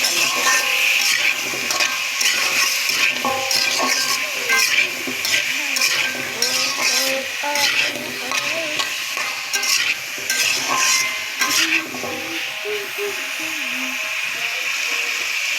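Potatoes frying in a pan for a fish curry with rohu, loud continuous sizzling with frequent spatula scraping and stirring clatter throughout.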